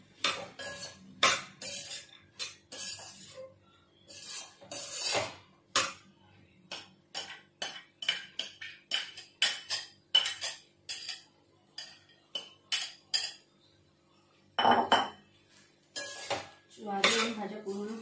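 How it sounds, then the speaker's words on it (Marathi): Sprouted sorghum being mixed into cooked vegetables in a pot, heard as a rhythmic series of metal spoon knocks and scrapes against the pot, close and distinct, with short pauses between strokes and no talking. "ज्वारी आणि भाज्या पूर्णपणे व्यवस्थित मिक्स करून घ्यायच्या आहेत"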